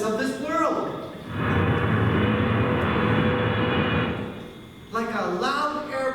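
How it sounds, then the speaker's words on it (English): A loud airplane landing roars as a broad, sustained rumble for about three seconds, with voices before and after it. "Like a loud airplane landing noise in this ear."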